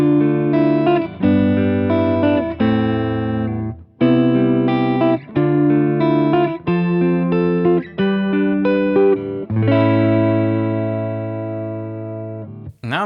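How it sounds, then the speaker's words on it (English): Clean electric guitar picking played through a Walrus Audio ACS1 amp simulator on its Fender-style amp model: a run of ringing single notes and chords in phrases, loud and close, with a long sustained chord near the end and no talking. "I'll start with some clean picking tones"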